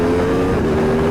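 Aprilia RS 660 Factory sport motorcycle accelerating hard, a loud, close, sustained engine drone with a steady pitch over its short span.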